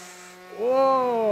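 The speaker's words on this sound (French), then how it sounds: "Il va repasser là avec la puissance et la vitesse de sa moto" Motorcycle engine racing in the Ride 3 video game, a buzzing tone that rises in pitch partway through as the bike accelerates, close and steady with no talk.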